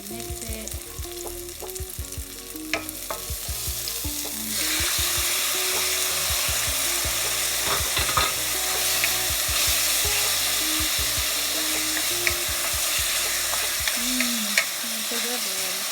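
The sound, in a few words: stir-frying eggplant and chicken teriyaki in pan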